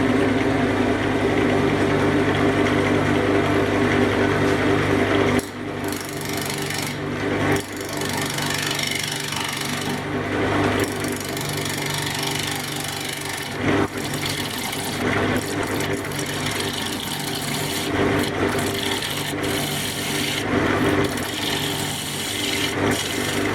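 A wood lathe turns a sycamore crotch blank, the gouge cutting away a chunk to clear room for the chuck, giving a loud continuous rough scraping roar with brief dips as the tool lifts off, close up and without talk.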